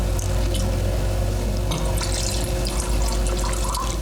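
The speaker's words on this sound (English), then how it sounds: "I would tell you that's a heavy pour" A drink is poured generously into a glass, giving a steady, close liquid splash and trickle that runs unbroken for several seconds with no talking over it.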